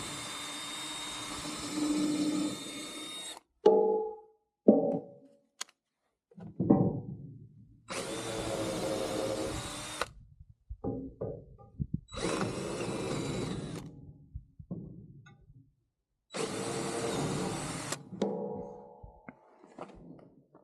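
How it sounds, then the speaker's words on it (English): A power drill bores pilot holes into wood for lag screws, running in four loud whirring bursts of about two seconds each, separated by clunks, handling noises and brief pauses. "I'm going to pre-drill them here with a drill bit."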